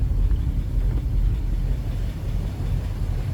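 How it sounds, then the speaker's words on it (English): A 1957 Cadillac Series 60 Fleetwood V8 runs at idle, a deep, steady low rumble close by that throbs evenly without letup, with no talking. "Nice little rumble coming out of that V8."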